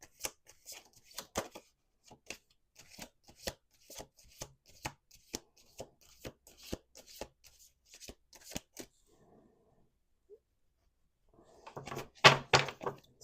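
Playing cards shuffled by hand, a series of crisp riffling bursts in steady rhythm, followed by a brief pause and a final louder flurry, close and quiet.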